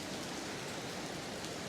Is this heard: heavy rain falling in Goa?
yes